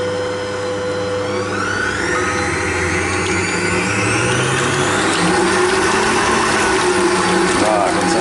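An electric mixer whipping chocolate Yule log cake batter at top speed, a loud continuous whirring drone with shifting pitch throughout, close and steady, with a voice talking faintly underneath.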